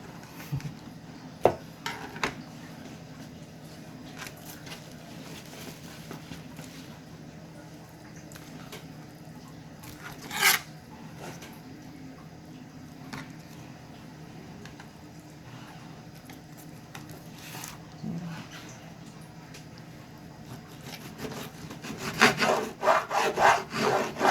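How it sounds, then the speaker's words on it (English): A knife cuts through long raw fish fillets on a board before frying, giving steady close sawing and scraping strokes with a few sharper taps and a busier clatter near the end. "I'm going to chop these fillets in half because they're kind of long."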